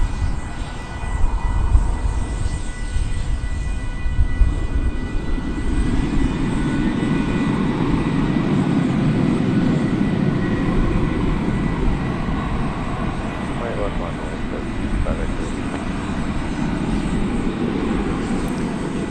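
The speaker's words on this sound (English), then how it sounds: "Got a 757 on it on final approach here." A UPS Boeing 757 on final approach at DFW Airport gives a steady, loud jet roar that holds for nearly twenty seconds with no talk.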